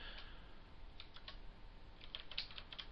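Someone types a search into a library catalog on a computer keyboard, a quick scattered run of soft key clicks, close but faint over a low room hiss.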